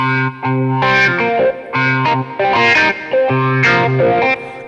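A distorted, overdriven rock guitar tone from a Yamaha SX900 arranger keyboard plays a sustained melodic phrase with held notes, loud and alone.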